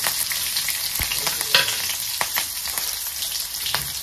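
Cumin, mustard seeds, chopped chili and garlic sizzle and crackle in hot oil, a dense, continuous frying hiss with sharp pops and spits, close and alone without talk.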